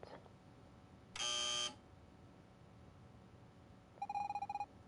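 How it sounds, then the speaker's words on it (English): A game buzzer from the video game Evoland sounds twice in a quiet room: first a loud, steady half-second tone, then about three seconds later a pulsing, ringing burst of rapid beeps. "When you hear the buzzer"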